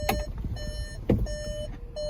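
Inside a 2023 Volkswagen Atlas, a warning chime sounds several times, clear tonal beeps spaced roughly half a second apart over a low cabin hum.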